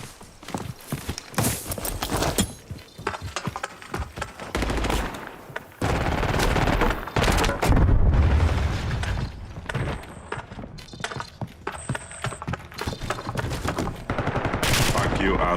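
Bursts of automatic gunfire and single shots from the video game Warzone crackle in rapid clusters, dense and near, mixed with game effects while a player talks.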